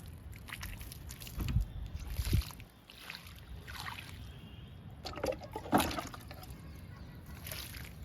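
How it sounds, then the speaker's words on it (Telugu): Water is poured from a mug onto celosia seedlings planted in a tub of garden waste, giving soft splashes and trickles in a few bursts with quiet gaps between. "వాటర్ ఇస్తున్నానండి జడబంతి మొక్కలకి."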